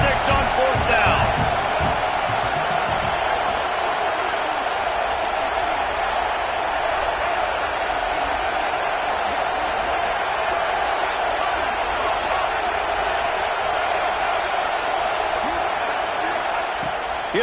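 A packed stadium crowd at an FSU versus Texas college football game holds a loud, constant roar for the whole stretch, with a commentator's voice carried over the din.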